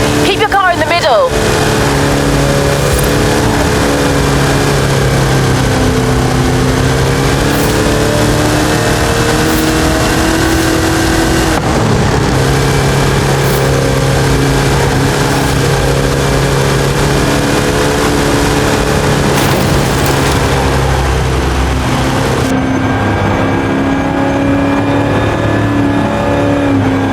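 A Hot Wheels car racing around a loop in Forza Horizon 5, its engine droning and revving loudly and continuously with shifting pitch, the tone rising and falling, while voices talk over it.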